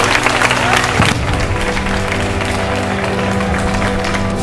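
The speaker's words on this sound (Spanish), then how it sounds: "¡Un aplauso para Jonah!" Audience at a Dalías zombie survival show applauds for Jonah, a steady wash of clapping with a louder burst at the start that settles into sustained applause, with faint voices mixed in.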